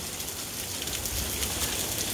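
Hail falls outdoors as a dense, steady broadband patter, continuous and fairly loud with no voices.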